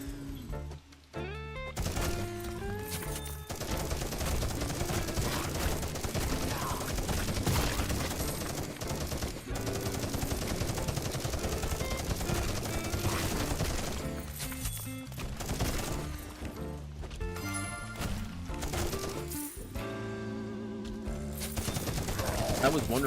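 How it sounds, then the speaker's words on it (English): A minigun fires in a video game, long rattling bursts of rapid automatic gunfire running almost continuously with brief breaks, loud and dense, mixed with other game effects. "Minigun."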